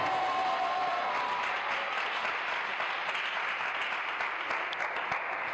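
A church congregation applauds in a sustained, dense wash of clapping that carries steadily from start to finish with no break.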